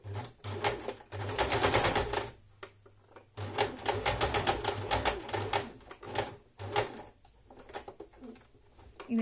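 A sewing machine stitching fabric along a seam: bursts of rapid, even needle chatter with a low motor hum, stopping and restarting several times, close and loud.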